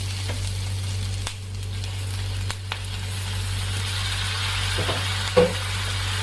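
Tomatoes fry with softened onions in a pan for paneer curry, a soft continuous sizzle beneath a low steady hum, with a few faint stirring clicks and no talking.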